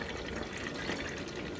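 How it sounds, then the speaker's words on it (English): Water pours steadily into a container to dilute a hair rinse, a soft continuous splashing and filling sound, faint and close, with no talking. "And now I'm going to add the water"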